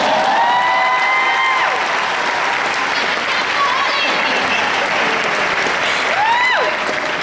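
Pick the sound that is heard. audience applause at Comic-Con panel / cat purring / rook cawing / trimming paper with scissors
audience applause at Comic-Con panel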